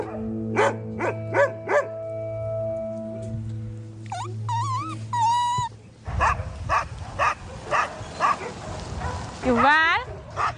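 A rehabilitated fighting dog barking and yipping in a pack setting, several loud, close barks and whiny yelps in uneven bursts, mixed with people talking and other dogs' voices.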